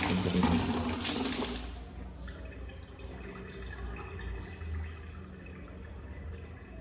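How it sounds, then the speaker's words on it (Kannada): Water poured over the cylinder block of a Yamaha RX motorcycle engine gives a splashing, trickling rush that is loudest in the first two seconds and then settles into a softer steady dribble, with no voices. "ಸದ್ಯ ನೀರು ಹಾಕ್ಬಿಡ್ತೀವಿ"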